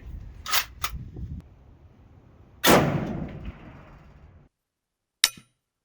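Rifle fire from a Kar98 and a Lee Enfield at a 100-yard range: a few sharp, loud cracks, two close together at first, then a heavier report with a long rolling tail, and a final short crack after a moment of silence.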